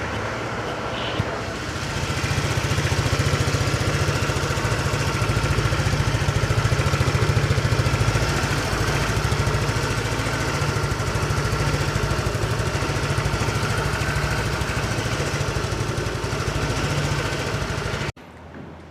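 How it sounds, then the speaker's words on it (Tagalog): An FKM Hunter 150 motorcycle engine fires up and settles into a steady, loud idle that holds alone without pause for about fifteen seconds before cutting off abruptly. "Let's turn on the kill switch, apply the brakes, and start the bike."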